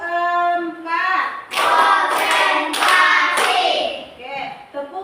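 A class of children chants the tepuk semangat spirit cheer, then claps in a loud, rhythmic pattern of hand-clap bursts mixed with their voices.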